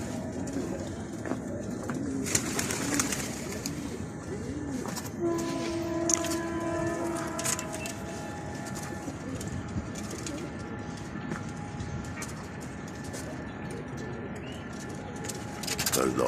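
Pigeons coo steadily and shuffle about inside a coop, a dense layer of soft cooing and rustling throughout, with someone talking over it and occasional sharper clatters.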